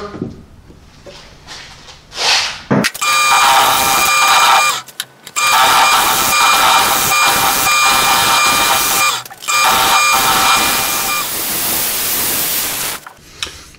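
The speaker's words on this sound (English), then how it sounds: "Use my bowl scraper." A bowl scraper cuts into a mesquite wood box spinning on a lathe, producing a loud, steady, harsh scraping whine in long stretches broken by brief pauses, with the lathe humming underneath.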